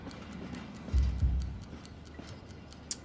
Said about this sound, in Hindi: इसमें टिक टिक की आवाज ना टाइम बॉम्ब की है।